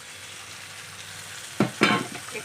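Fish going into hot mustard oil seasoned with five-spice, giving a steady low background sizzle that flares into two loud crackling bursts near the end, then settles back, with no talking.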